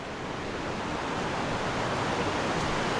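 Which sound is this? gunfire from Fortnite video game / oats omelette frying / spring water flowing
spring water flowing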